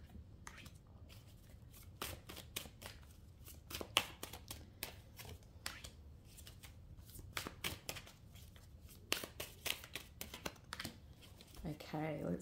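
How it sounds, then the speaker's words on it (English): Tarot cards shuffled and drawn by hand, a series of crisp riffling flicks and slaps in irregular bursts, close and quiet, with a voice speaking at moments. "what we're going to do is pull four cards and then we will have a look."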